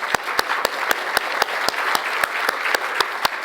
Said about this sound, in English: I would like to give a big applause to my colleague Peter